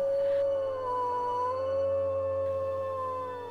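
Wolves howling in a dark wintry forest: one long, loud, sustained howl that bends slowly in pitch and sounds close, with no voices over it.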